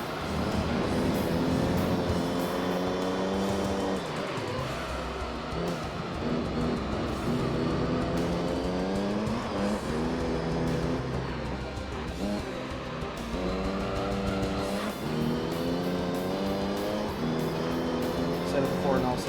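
A car engine in the Gran Turismo 3 racing game whines and shifts through rising and falling revs during a race, with a voice talking over it.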